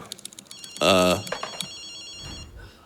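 A phone ringing in the video game Ghostwire: Tokyo, a single loud electronic ring burst with a bright harmonic tone, followed by softer tonal blips and clicks under talk.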